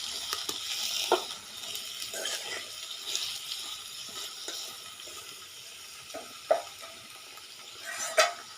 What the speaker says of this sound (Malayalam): അതിലേക്ക് ഇട്ട് കൊടുക്കാം കേട്ടോ. അത് നല്ലോണം ഒന്ന് വഴണ്ടി വരട്ടെ. നമുക്കത് നല്ലോണം ഇളക്കി കൊടുക്കാം.